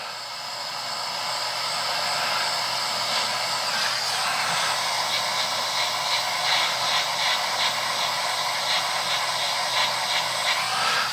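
A heat blower runs with a steady, close hiss while warming the grip of a Mizuno MMC iron golf club. A faint rhythmic fluttering sits under the hiss, and no one talks.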